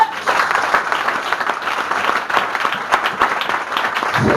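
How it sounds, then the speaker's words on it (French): A church congregation bursts into sustained applause during a sermon, a dense continuous roar of many hands clapping, loud and steady with no one speaking over it. "Acclamons pour la parole de Dieu"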